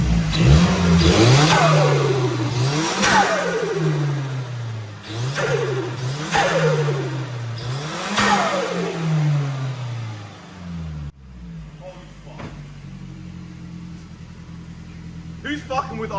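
A car engine with a hybrid turbo revs repeatedly in bursts, with a rising whistle of turbo spool and a whoosh as each rev falls away, close and loud.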